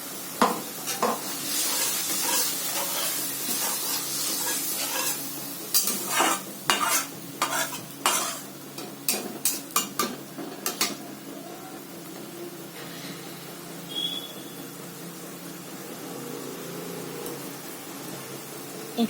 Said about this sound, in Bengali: সেটাকে দিয়ে 2 মিনিট এভাবে ভেজে নেব, মশলার যাতে কাঁচা ভাবটা চলে যায়